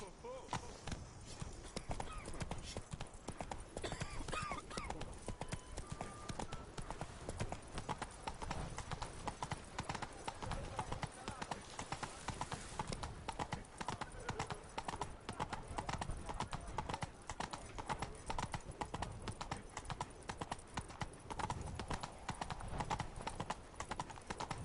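Geralt's horse Roach gallops in The Witcher 3: Blood and Wine, a steady, close clip-clop of hooves running throughout with an occasional whinny, under game music and intermittent character talk.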